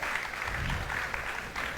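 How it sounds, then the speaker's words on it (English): A school audience claps steadily at a maths quiz final, a dense, even round of applause honouring a contestant team, fairly loud throughout with no pause. "A round of applause once again for Myredeve!"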